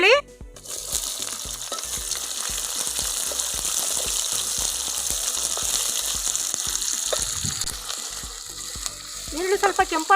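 Onions fry in oil with whole spices and curry leaves for a village-style mushroom masala, making a loud, dense sizzle broken by stirring scrapes and clatters, with a louder burst near the end.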